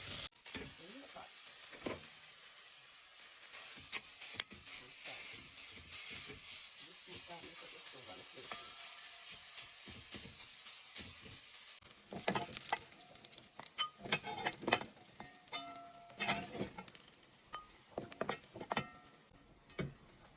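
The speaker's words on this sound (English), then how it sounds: "So now I'm going to drop the pork in the pot." Pork frying in a pot for Jamaican ackee and corned pork, a steady soft sizzle and hiss that grows busier and crackles more sharply in the second half, with occasional scraping clicks.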